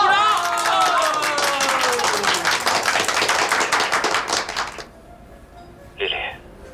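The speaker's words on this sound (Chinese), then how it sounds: "鼓掌！" Classmates clap together in a dense, steady burst of applause for about five seconds that fades out, with a voice heard over the start and a short bright knock near the end.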